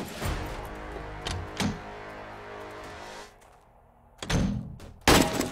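In the 7 Days to Die video game, a zombie bangs on a door in several heavy thuds, two early blows, a quieter stretch, then two loud slams near the end.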